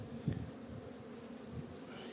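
Honey bees humming at a calm hive during beekeeping work, a faint, low, continuous drone with a brief louder buzz near the start.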